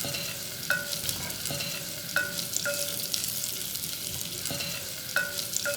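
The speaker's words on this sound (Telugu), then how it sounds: "ఇది నూనెలో వేగించుకోవాలి" Chopped onion and cumin fry in oil in a clay pot, a continuous close sizzle broken by regular light knocks and scrapes of a spoon stirring against the pot, with no speech.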